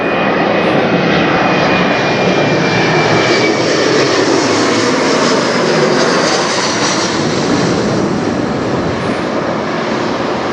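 A Jazz Aviation airliner passes overhead near Toronto airport with a loud, steady engine roar and broad rushing whine that holds strong for the whole stretch, with no talking.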